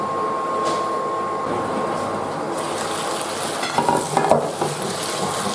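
Sweet potato in tomato sauce simmers in a pan over reduced heat, making a steady close bubbling sizzle with a few louder stirring clatters near the end, with no talking.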